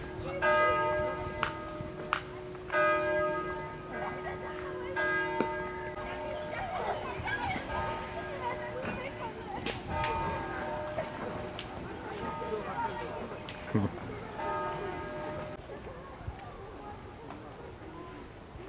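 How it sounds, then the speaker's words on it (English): A chapel bell in Cannes rings in steady repeated strokes with a long shimmering ring, heard outdoors under people talking and street bustle until it stops partway through. "That's where the bell sound's coming from?"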